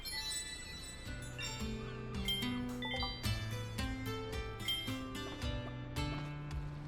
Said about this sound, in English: Ring the adventure bell for the first time.